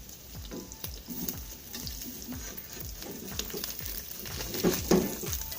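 Steady sizzling and crackling of an omelette frying in a worn nonstick pan, continuous throughout with occasional louder pops near the end.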